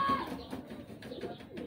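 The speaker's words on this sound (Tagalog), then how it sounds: "Ito na, dumating na yung ibon nyo" A racing pigeon coos softly at a loft after arriving home from a pigeon race, with a low, steady murmur through the short stretch and no voices.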